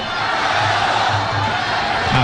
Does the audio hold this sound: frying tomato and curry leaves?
no